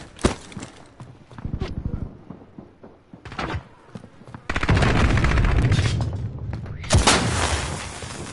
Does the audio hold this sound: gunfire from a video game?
yes